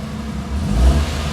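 A 2016 Daihatsu Hijet's engine runs during a test drive after a major service, for a repair that addressed misfiring and heavy fuel use; a steady mid-pitched hum swells slightly, close and continuous with no talk.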